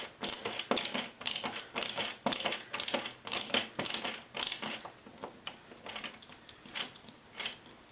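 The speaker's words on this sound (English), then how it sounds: "I'm going to get this through the hole and into the other drywall anchor and get that one started." Screw being driven through a towel rack hole into a drywall anchor, a steady run of rapid rhythmic ratcheting clicks close up, repeating in pulses for several seconds with no talk.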